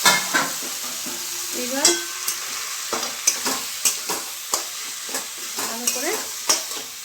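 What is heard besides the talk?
cabbage being stirred and fried in a pan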